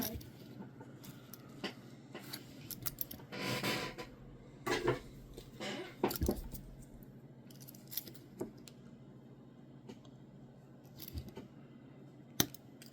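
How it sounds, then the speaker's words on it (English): A wire tip being snipped with cutters while upgrading a Sony KV-27V42 CRT television with RGB, heard as a few sharp clicks and snips among faint handling noises and tool clatter. "Cut that tip off right there"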